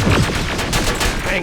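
Rapid gunfire bursts from a firefight in the video game Terminator Resistance, loud and dense throughout with overlapping shots and a short rattle of automatic fire.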